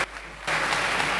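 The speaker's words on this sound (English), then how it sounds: "A better round of applause for him" Applause breaks out at a church school's 175th anniversary celebration, a sudden wide burst of many hands clapping that starts after a quieter moment and carries on loudly, with no speech.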